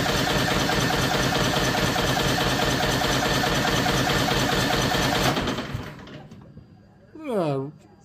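A John Deere 445 engine cranks steadily during a compression test, a loud continuous rhythmic churning that stops abruptly, followed by a brief faint whine.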